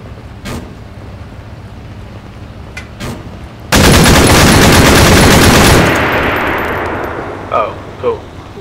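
Sustained burst of automatic machine gun fire in Arma 3, loud and close, lasting about two seconds and trailing off into a fading echo, with a few isolated shots before and after.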